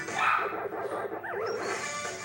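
Dogs barking and yipping over loud game music from Pac-Man Versus, a few sharp barks and a whimper mixed into the steady tune, fairly close.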